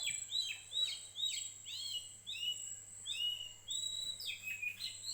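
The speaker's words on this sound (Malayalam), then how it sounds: "കിളികളെ സൗണ്ട് കേൾക്കുന്നുണ്ടല്ലേ" Early-morning birdsong outside a house: repeated bright chirps and descending whistled calls in quick succession, moderately close, over a faint steady insect hum with no talking.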